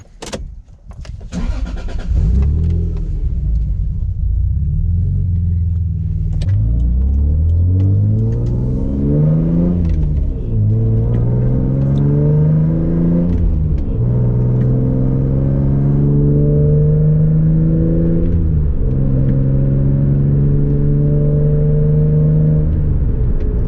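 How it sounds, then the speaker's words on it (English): A Toyota Supra fitted with HKS coilovers is driven around the block, its engine starting and revving in loud rising and falling pulls that hold a steady, close rumble throughout. "So we're gonna go ahead, hop in, take it around the block, see how she handles"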